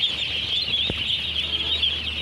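Ducklings on a duck farm keep up a continuous high, shrill peeping chorus, many birds calling at once close by, with one brief thump partway through.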